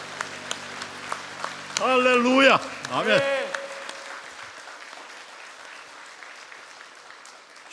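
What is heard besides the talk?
congregation applauding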